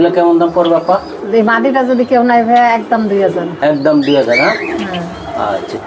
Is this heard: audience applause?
no